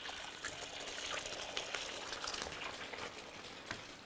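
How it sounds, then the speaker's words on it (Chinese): An egg fries in very hot oil, a soft, close sizzle with crackling pops and bubbling, fairly quiet and without any talk. "先给你煎个煎蛋"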